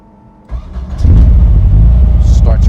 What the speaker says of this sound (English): Starts right up, again, fuel injected.